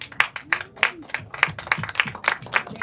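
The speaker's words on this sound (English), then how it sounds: "let's give you a round of applause" Steady clapping from a standing group at a literary celebration event, a brisk rhythm of individual claps filling the space, with faint background voices underneath.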